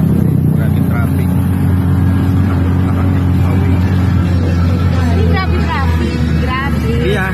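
Heavy road traffic in Cebu rumbles as a steady, loud engine drone from inside a vehicle, while voices talk over it and faint horn-like tones waver near the end.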